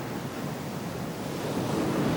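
Ocean waves break on a rocky shore among tide pools, a steady, full wash of surf with some wind noise, growing slightly louder toward the end.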